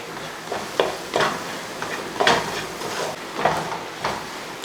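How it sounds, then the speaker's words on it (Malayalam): Soya chunk gravy with sauce being stirred in a pan, a spoon scraping and sloshing through the thick liquid in irregular strokes, with a faint sizzle underneath. "ഇനി ഇതെല്ലാം കൂടെ ഒന്ന് ഇളക്കി കൊടുക്കും."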